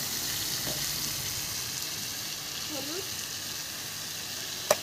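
Steady sizzle of spices frying with green chili, ginger-cumin paste and salt, a soft continuous hiss with faint stirring scrapes and a sharp clink near the end; a brief spoken word sits over it.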